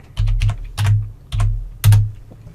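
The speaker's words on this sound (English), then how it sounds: "I'm going to type in logo here." Keys on a computer keyboard are tapped in short bursts of four or five clicks, close and crisp with small pauses between, with no talk over them.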